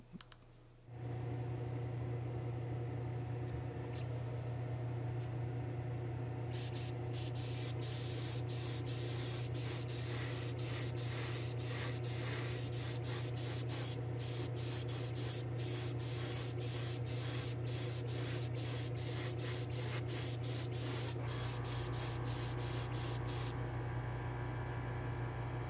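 An airbrush or spray gun lays a final clear coat onto a custom model car, a steady hiss that starts after a brief quiet moment and runs continuously near the source, with a constant low hum of a compressor or fan underneath.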